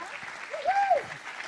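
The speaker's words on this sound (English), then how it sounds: "Can you please give them a warm applause," Applause from a conference audience at a stage event welcoming two speakers, a steady crowd clapping heard at moderate distance with a brief voice-like tone rising over it.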